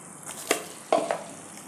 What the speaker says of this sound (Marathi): आता इथे मी मसाला व्यवस्थित तेलात परतून घेतला आहे